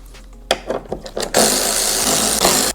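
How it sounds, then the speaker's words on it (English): Power tool working on T25 bolts in a bracket on a 2024 Harley Touring motorcycle windshield, a few short close bursts followed by a sustained loud whirring run that cuts off abruptly. "Now remove the 3 T25 bolts that's right here in this little bracket"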